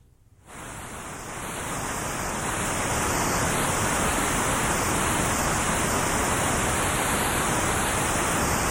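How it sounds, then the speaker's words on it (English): A Moog synthesizer's noise generator hisses out unmodified white noise, fading in and then holding as a loud, steady, broadband rush. "let us use the white noise generator"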